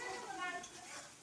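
Ginger garlic paste fries with turmeric in a pan for a Bengali potol and prawn dish, a steady close sizzle with soft stirring scrapes and a faint clink of utensil on the pan.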